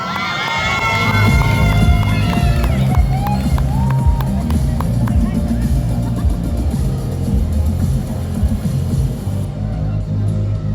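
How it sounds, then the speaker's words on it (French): Crowd at a free cosplay performance at Paris Manga cheering and clapping for a magic act, a loud, sustained roar of voices and applause with music playing underneath. "On l'applaudit bien fort."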